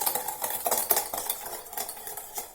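A hand whisk beats Dalgona coffee mixture in a bowl, giving a fast, steady scraping and clinking that repeats rhythmically and stays close, with no talking.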